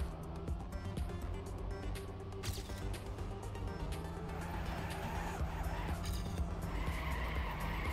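Race car tires skid and squeal in a racing video game during a competitive match, with a continuous engine drone and repeated sharp scraping bursts close up.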